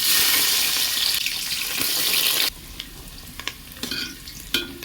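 Whole garam masala and chopped onions hit hot mustard oil with a loud rushing sizzle that drops off abruptly halfway, leaving a softer crackle with a few scattered knocks and pops.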